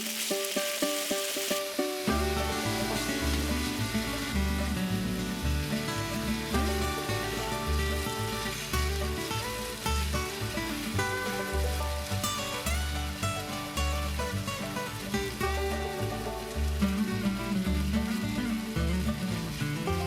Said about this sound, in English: Add in the oil and layer it with the cooked noodles.